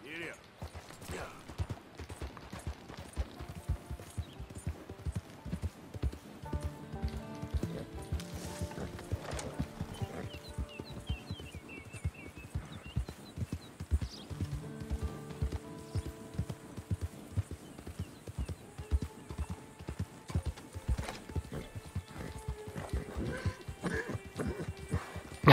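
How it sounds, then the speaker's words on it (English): Hooves clop in an irregular rhythm, with a horse whinnying over game music and scattered sound effects in Red Dead Redemption 2. "Horse don't sound too good."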